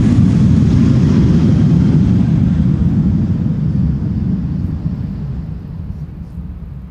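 A KLM Boeing 737-700 takes off from Schiphol's Polderbaan runway for Billund, a loud, deep engine rumble and roar that slowly fades as it climbs away.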